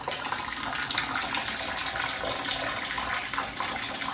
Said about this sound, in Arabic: هلا هيك انا راح افتح المي